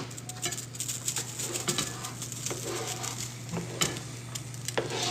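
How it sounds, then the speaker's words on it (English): Mushrooms sizzle steadily in melted butter in a pan over medium-high heat, a close, continuous crackle with small scattered pops and a low hum beneath. "while it's all pretty much melted now, I'm gonna throw in my mushrooms"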